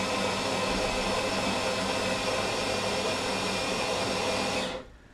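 A coffee machine runs for a cappuccino, giving a steady loud broadband whirring hiss that holds evenly for several seconds and then cuts off abruptly, with no voices over it.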